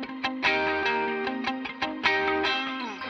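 An electric guitar with a single-coil sound plays through an eighth-note delay and an octave reverb pedal, each picked note ringing into shimmering repeats that overlap, alone and fairly close.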